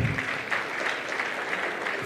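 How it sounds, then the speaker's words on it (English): A conference audience in Tanzania claps in a brief, dense burst of applause that stays steady and fairly loud throughout. "Another round of applause, ladies and gentlemen,"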